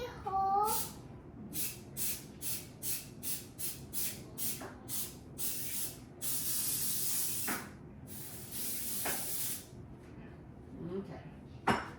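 A cooking spray can is pumped in a quick series of short hissing bursts over a cupcake pan, followed by a longer steady spray, close by in a home kitchen, with a brief voice early on.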